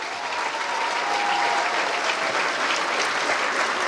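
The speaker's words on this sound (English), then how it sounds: "Can you give them a round of applause" An audience applauds at a police academy passing-out ceremony in Ulundi. The clapping is dense, continuous and fairly loud, holding steady throughout.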